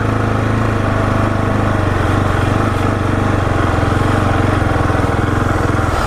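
KTM 701 supermoto single-cylinder engine held at steady throttle while the rear brake drags, a loud, close, continuous drone that rises and sags slightly in speed.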